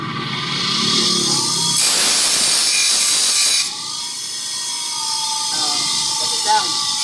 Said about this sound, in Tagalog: Tapos dadaan mo sa grinder para makinis.